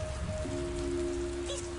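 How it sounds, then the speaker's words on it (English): Soft, steady rainfall from the kids' video game Food Farmer patters evenly over a brief stretch, accompanied by a faint sustained electronic tone in the background. "The rain will water your seed."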